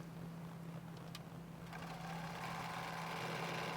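A sewing machine stitches a quilt block, a faint, steady mechanical whir with a low hum running evenly throughout and no speech.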